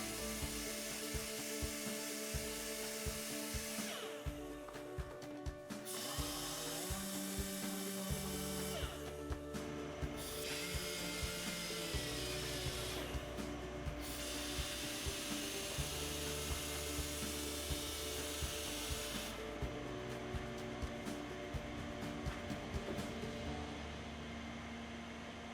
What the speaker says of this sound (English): Sand down the weld and finish it off with a 2-speed sander.